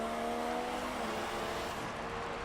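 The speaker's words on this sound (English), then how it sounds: "the drivers are now going around the safety car" Formula 1 race cars at the Russian Grand Prix running behind the safety car, a continuous dense engine whine and roar, steady and fairly loud with no talk.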